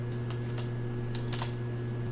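Soft keystrokes tap on a computer keyboard in small irregular clusters over a steady low electrical hum, quiet and close with no talking.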